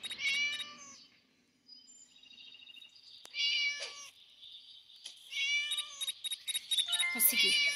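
Kitten meowing in the Scary Teacher video game, several high, repeated meows in short bursts, with game sounds between them and a voice talking over parts.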